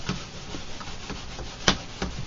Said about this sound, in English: You take your rubber stamp and you put it onto your pad and you give it a rub.